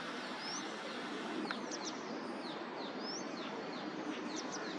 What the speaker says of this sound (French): Est-ce que je peux avoir ce joli petit oiseau?